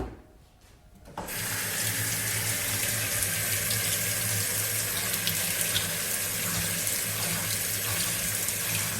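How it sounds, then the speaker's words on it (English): Hot tap water gushes steadily into a bucket with Simple Green cleaner after a brief quiet start, a loud continuous splashing rush with no voices. "pour in a healthy amount of simple green, and then we're going to fill it with hot water from there"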